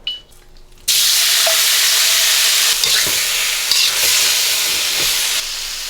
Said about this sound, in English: while the meat is cooking